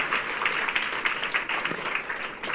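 A church congregation applauds in praise during a Protestant sermon, a steady dense wash of clapping that holds at an even level throughout without pause.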